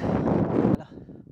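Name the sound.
strong wind on the microphone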